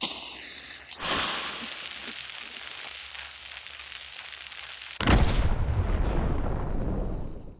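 Big dynamite bundles detonating in Hunt: Showdown, a heavy blast with a rumbling, debris-filled tail, then a second louder, closer explosion that roars on with crackling aftermath.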